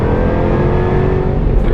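A 2016 Jaguar F-Type R AWD coupe with its exhaust off gives a loud, close, continuous engine intake drone, a steady harmonic hum under load that holds throughout with no voices.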